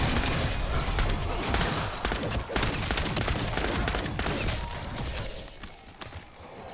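MP40 submachine gun in a zombies video game firing in rapid sustained bursts, loud and dense with crashing impacts layered in, easing slightly toward the end.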